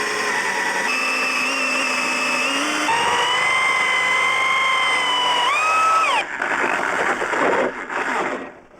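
A power drill bores holes in a van floor with a loud, sustained whine that shifts pitch as it works, then drops into rougher grinding and rattling toward the end.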